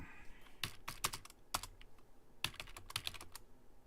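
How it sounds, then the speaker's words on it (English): Keys clatter on a computer keyboard in quick irregular bursts of sharp clicks, close by and alone, with short pauses between flurries. "The keyboard wasn't agreeing with me."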